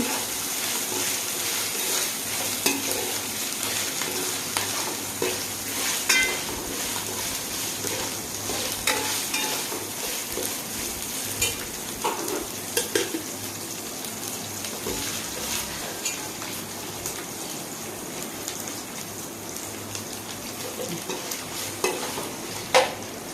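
Ginger garlic paste frying in oil in a pan for egg fried rice, a steady close sizzle with repeated scraping stirs running throughout and no talking.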